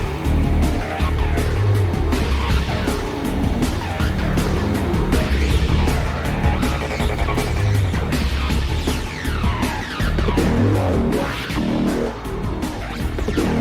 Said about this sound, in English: I'm gonna beat you in the corner race